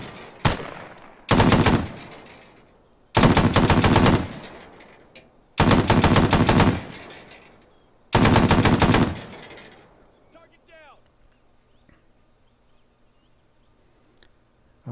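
.50 caliber machine guns fire in a video game as four long, loud bursts separated by short pauses, followed by a quieter tail of faint clicks and ambient noise.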